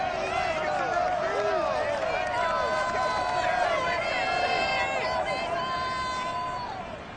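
A loud, steady roar of a stadium crowd at Paul Brown Stadium in Cincinnati in Madden NFL 22, with whistles and cheering tones rising above the constant babble throughout.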